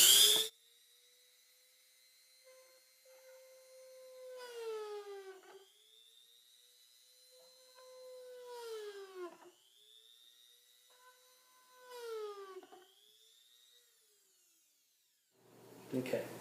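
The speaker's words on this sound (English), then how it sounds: "So I'm going to go ahead and drill 3 more holes with this" A power drill whines in three long bursts while drilling holes in plastic, its pitch rising and dropping as it bites in, separated by near-silent pauses.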